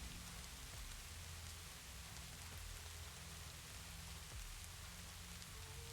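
Steady rain falling, a soft, even hiss of drops that holds unchanged throughout with no other sounds and no talking.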